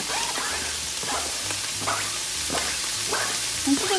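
Vegetables shoveled into a pan with drained meat for goulash, a constant close sizzle of frying with repeated spoon scrapes and stirring knocks throughout.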